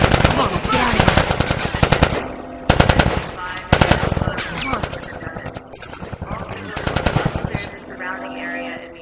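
Rapid automatic gunfire rattles in bursts during a firefight in The Last of Us Part II, with loud sharp volleys broken by short pauses while voices shout over the shooting.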